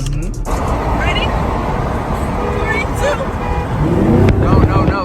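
Muscle cars, a Challenger, Camaro and Mustang, idle and rumble close by on a road at night, a dense, loud engine drone with brief horn-like tones, under people talking.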